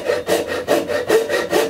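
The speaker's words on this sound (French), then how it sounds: "Je scie en laissant le trait." Rhythmic strokes of a frame saw biting through wood, five steady back-and-forth passes at close range with no talking.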